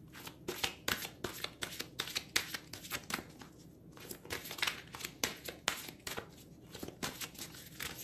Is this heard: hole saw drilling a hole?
no